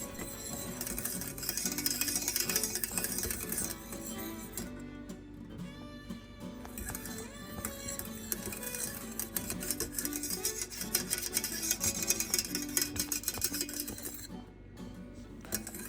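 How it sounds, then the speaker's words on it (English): Lemon curd being whisked constantly in a pan on a stovetop, giving continuous scraping and light metallic clinks for the whole stretch, moderately quiet, with no talking. "continue to whisk, allow your cooktop to cool down a bit, and place it back down on the stove"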